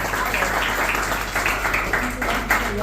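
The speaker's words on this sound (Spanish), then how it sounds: "yo quisiera pedir un aplauso cálido a los artistas que se han entregado" An audience at an artistic gathering and awards event applauds the artists, a dense, steady wash of clapping throughout.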